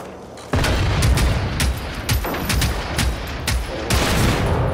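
Rapid gunfire in Generation Zero starts abruptly and continues in loud, overlapping shots and bursts, dense and close throughout with no pauses.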